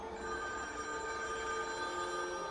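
A telephone bell rings continuously at about two in the morning inside a home, a faint, steady electronic trill heard alone with no voices.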